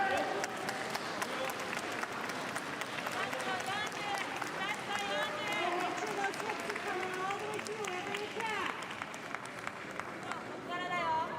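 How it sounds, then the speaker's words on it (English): Distant applause from a neighbouring judo mat inside the Budokan arena in Tokyo, a steady crowd wash running under continuous talk throughout. "Applause on the other side of the Budokan from mat 1"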